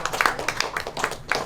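Brief applause for a new sponsor at a motorsport drift team announcement, with a few close, sharp hand claps in an uneven rhythm.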